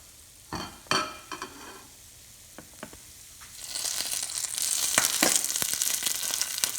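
Flitters fry in a pan: a few clinks and taps come first, then a strong steady sizzle swells up and continues, close and loud, with no talking.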